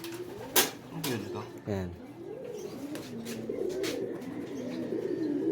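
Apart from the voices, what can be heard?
racing pigeon cooing on return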